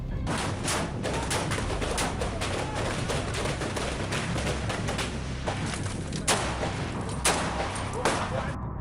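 Sustained gunfire from an army operation in Kashmir, rapid dense bursts of shots over a constant rumbling background, with a few louder cracks toward the end.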